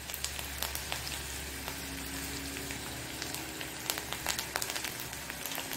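Curry leaves sizzle in hot coconut oil during a tempering for Tulunadu-style moong dal uppittu, a soft, steady crackle and fizz with scattered pops, heard alone at low volume.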